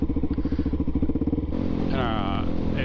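A DRZ400SM motorcycle with an MRD Z-PRO exhaust thumps in a rapid pulsing rhythm close by, then shifts into a smoother steady drone while a voice speaks over it.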